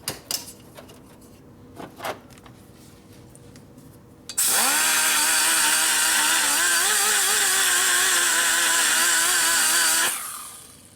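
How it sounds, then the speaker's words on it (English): Power tool chamfering a spark plug hole in a dual-plug cylinder head from a 1980 Harley Sportster 74ci stroker; a few faint clicks and taps, then a loud sustained high whine that wavers in pitch for about six seconds before winding down. "Dual plug, so I'm going to chamfer out the plug hole."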